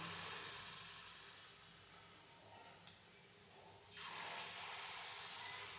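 Palm fruit fritters (taler bora) frying in hot oil, a steady hiss of sizzling that dips for a few seconds and then surges louder as more batter drops in.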